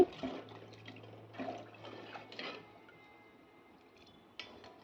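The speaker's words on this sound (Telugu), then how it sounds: "వాటర్ అయితే పోసుకోవాలి" Water poured into a pot of rice with green peas for tomato rice, a soft uneven splashing that comes in a few bursts over the first three seconds, fades to a quiet trickle, then ends with a small clink.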